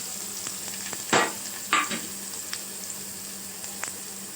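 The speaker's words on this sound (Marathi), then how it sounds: "तो कांदा टाकणार आणि छान मिक्स करून घ्यायचं" Onion stirred and frying in a pan, a low steady sizzle with two louder scraping stirs near the start and a few lighter touches afterward, close and without talk.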